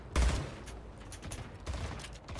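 Gunfire in the first-person shooter Splitgate, a burst of sharp shots near the start followed by scattered, busy game sounds and more shots over a dense, steady background.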